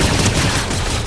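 Friendly gunfire in the video game Fortnite, a dense, loud, continuous burst of rapid shots filling the whole moment with no pauses and no voices.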